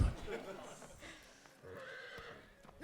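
A horse neighing in the Shadow of the Colossus remaster, a single drawn-out whinny over busy game ambience and hoof clatter.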